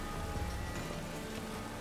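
Steady rain hisses down in The Witcher 3, a dense even wash of falling drops with no voices over it.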